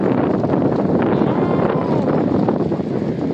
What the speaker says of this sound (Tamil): காற்றடிக்கு ரொம்ப காற்றடிக்குது